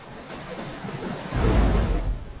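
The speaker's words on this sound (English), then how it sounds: "The water! It's rising!" Surging water and waves rising in a flood, a steady rushing wash that swells into a louder, deeper roar partway through, with no voices.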